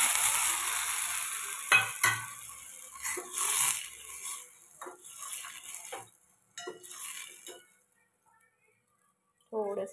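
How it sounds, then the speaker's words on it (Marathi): Cooked dal poured into hot tempering in a cooking pot gives off short bursts of sizzling with faint clinks of utensils. The sound dies down to near silence, then one more sizzle flares up at the end. "आता डाळ आपण ह्या पातेल्यामध्ये टाकून घेऊया."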